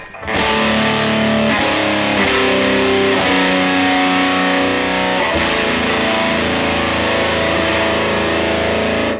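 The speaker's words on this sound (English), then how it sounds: "And then if we turn the distortion up, let's say halfway, we can get an almost fuzz effect." Electric guitar through a Rat distortion pedal with the distortion turned up about halfway, giving a thick, almost fuzz tone: loud sustained distorted chords ringing on with long sustain, close and continuous, with no voices.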